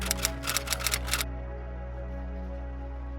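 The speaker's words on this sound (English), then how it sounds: "To understand why the shutter sound exists" A Japanese phone camera shutter sound: a quick burst of sharp mechanical clicks in rapid succession, near and crisp, followed by a steady low hum.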